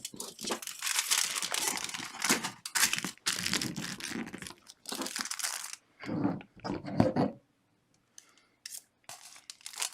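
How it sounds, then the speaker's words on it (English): Scissors cut through aluminum foil to sharpen the blades, producing crisp crinkling and snipping bursts in an irregular series, close up, with a few pauses and a quieter stretch near the end. "sharpen them by cutting the foil a couple times"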